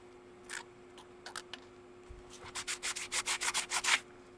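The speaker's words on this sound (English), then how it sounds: "Maybe I didn't sand it." Close, rhythmic strokes of sanding a carved stone seal: a few scattered rubs, then a steady run of about nine quick back-and-forth scrapes under a faint background hum.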